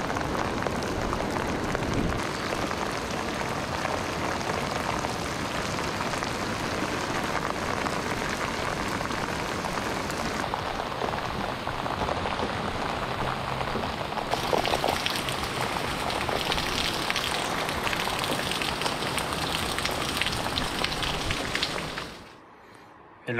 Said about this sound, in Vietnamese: giờ lại mưa.